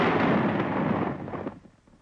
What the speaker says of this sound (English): A 250-kilogram bomb of nearly the same type is also prepared for detonation.